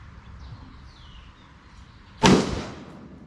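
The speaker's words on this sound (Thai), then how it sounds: "เดี๋ยวยิงดูอีกนัดหนึ่งครับ" A single sharp, loud report from a Colt M4 5.56 rifle being zeroed at a 25-metre range, cracking once over a quiet outdoor background and decaying quickly.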